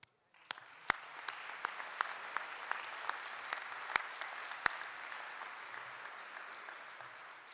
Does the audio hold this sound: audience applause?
yes